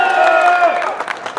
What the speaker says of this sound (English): Folks, one more round of applause for the MiLegalize Board of Directors members.